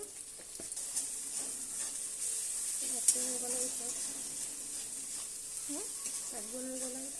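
Garlic and ginger fry with turmeric and salt in a pan for a chicken and potato curry, making a soft, continuous sizzle with a faint voice briefly heard over it.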